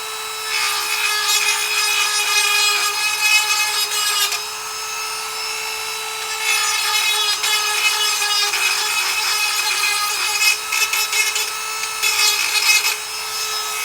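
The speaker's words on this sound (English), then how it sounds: "you can take a smaller drill, again with a cone shape. You can use it to round off the edges" Small cone-shaped drill bit rounding off the edges of a Yemenite shofar's horn mouthpiece, a steady high whine with bursts of gritty grinding as the bit bites in, pausing briefly twice.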